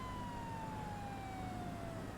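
A police car siren wails steadily in Grand Theft Auto Online, a thin, slowly falling tone that stays faint and even behind a low rumble of driving, with no talk.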